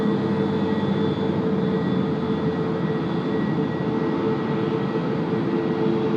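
An Airbus A350-1000 on the apron at Tokyo Haneda airport, a constant steady engine whine and hum with tonal whistles, fairly loud and unchanging, no voices.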